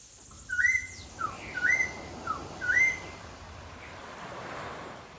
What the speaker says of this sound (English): Curaçao's national bird, we heard its song each morning on our deck